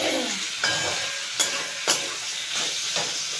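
Chicken and potatoes fry in a pan over a medium flame, giving a steady close sizzle with a few sharp clinks and stirring scrapes, and no talking.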